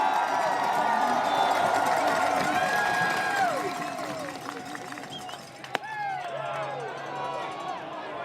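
A baseball crowd at a West Coast League playoff game between the Portland Pickles and Marion Berries roars with sustained cheering that swells and then eases, with a voice talking over the din.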